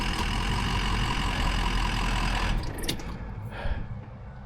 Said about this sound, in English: I hear his rattly truck from a mile away